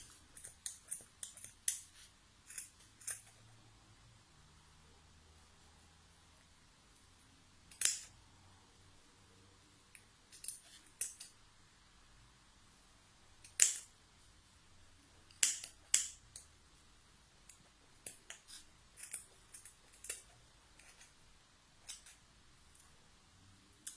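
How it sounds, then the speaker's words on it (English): Scissors snip through the yarn loops wrapped around a fork to make a pom-pom, giving sharp, close cuts in irregular bursts with quiet pauses between them and no talking. "you're going to take your scissors and you're just going to cut through all of them"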